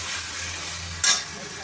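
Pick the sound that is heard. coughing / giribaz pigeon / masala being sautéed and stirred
masala being sautéed and stirred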